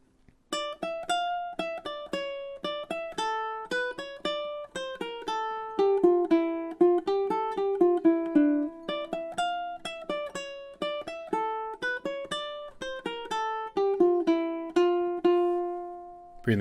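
Bach's Bourrée played fingerstyle on a solo ukulele, a steady stream of clear plucked notes in a lively, even rhythm, close and unaccompanied for the whole passage.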